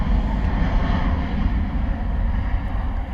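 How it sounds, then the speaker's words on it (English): A TUI Boeing 737 jet departs Bristol Airport, its engines producing a loud, steady broadband roar with some wind buffeting on the microphone and no talking. "Gorgeous departure from the TUI Boeing 737."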